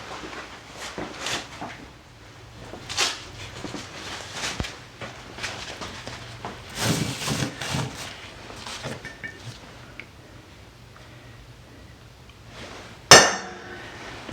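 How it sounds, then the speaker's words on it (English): A hammer taps a center punch on marked hole points in metal, a series of light, sparse metallic taps with pauses between, then one sharp louder strike near the end. "Now I'll center punch those and we'll drill some holes."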